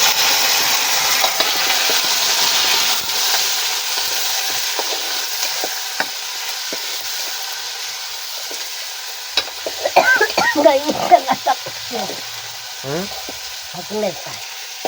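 Brinjal and raw onion fry in a hot pan with a steady, close sizzle, while a spoon scrapes and stirs in several bursts of clatter toward the end.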